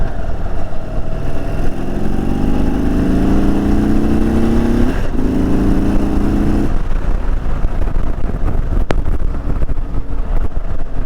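An Indian Super Chief motorcycle accelerates, its engine note rising through the gears under heavy wind roar, loud and close, with a brief shift dip midway before the engine pitch fades into steady wind.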